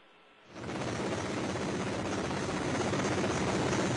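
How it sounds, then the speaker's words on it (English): Search and recovery helicopters near a Soyuz capsule landing site, a dense rotor roar that swells in after a quiet half-second and holds steady and strong to the end. "Search and recovery helicopters in the vicinity of the landing site"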